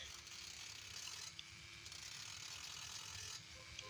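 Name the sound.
tightening parts on a CD motorcycle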